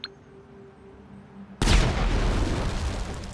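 An explosion in Grand Theft Auto V triggered by dialing a phone number, a sudden loud booming blast after a quiet lead-in with a faint blip, followed by a sustained rumbling wash of noise.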